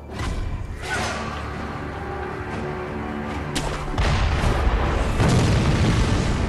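Loud, booming gunfire and explosive thuds from the game Sekiro: Shadows Die Twice rumble continuously, with heavier blasts arriving in the second half.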